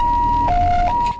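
Ambulance siren alternating between two pitches in a loud, steady two-tone wail, close by, cutting off near the end.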